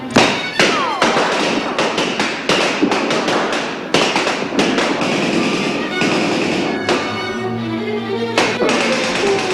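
Gunfire in a science-fiction drama scene, a dense, loud string of sharp cracking shots and thuds rattling almost without pause over a busy background.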